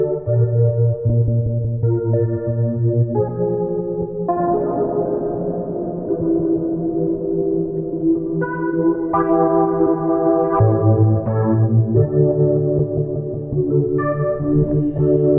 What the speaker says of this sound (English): And then some big reverb.